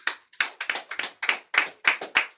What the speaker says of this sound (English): can we please give her a big hand clap?